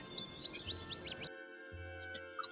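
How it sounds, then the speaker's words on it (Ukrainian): Birds sing in a summer forest: quick, bright chirps repeat in a rapid burst, then a few scattered calls follow over a faint steady background. "а пташки як співають"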